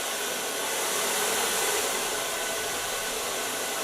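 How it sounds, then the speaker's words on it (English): Steady, loud whoosh of a hair blow dryer running continuously close by in a salon setting, with an even airflow roar and no pauses. "When you hear the blow dryer is getting more active"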